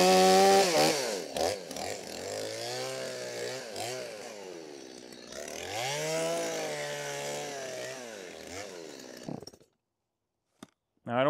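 An old-model chainsaw runs loud and close, its engine revving up and down in long sweeping surges before cutting off into near silence.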